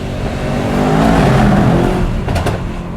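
A pre-owned Mercedes-AMG E63 S revving up close. The deep engine rumble swells and holds loud for about three seconds, with a brief sharper crackle near the end.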